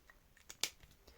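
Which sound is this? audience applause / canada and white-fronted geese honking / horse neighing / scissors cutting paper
scissors cutting paper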